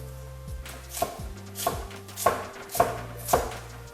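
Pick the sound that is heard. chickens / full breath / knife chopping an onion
knife chopping an onion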